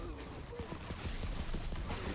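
Rapid gunfire from shooting in the video game Tiny Tina's Wonderlands, a dense steady stream of shots under a faint voice throughout.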